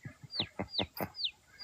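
Farmyard chickens give an alarm call, a string of sharp, rhythmic clucks and rising squawks repeating about every fifth of a second, fairly near but soft, with no talking.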